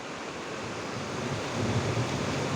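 The Hanumante river runs swollen after heavy rain, a continuous roaring rush of fast water, steady and fairly loud, with a deeper surge toward the end and no voices.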